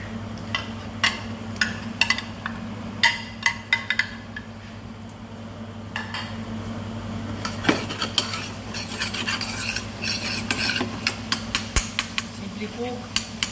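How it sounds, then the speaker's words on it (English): Veal meat searing in a pan, with steady sizzling under frequent clinks and scrapes of utensils against the cookware, close and busy throughout. "I will start to sear the rest of the meat."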